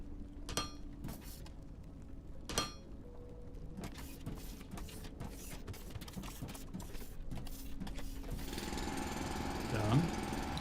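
A drilling machine bores downward in a video game, giving a steady grinding, buzzing hum with repeated sharp clicking bursts and a rising whine toward the end.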